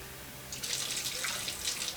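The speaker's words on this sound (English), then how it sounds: "and then some warm water going here." Warm water pours into a bowl already holding olive oil for tortilla dough, a soft splashing trickle that starts after a quiet moment and runs close and steady to the end.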